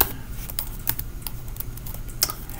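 Close computer keyboard typing while a Python command is entered to activate a virtual environment: a loose run of separate key clicks, with a few sharper strokes standing out.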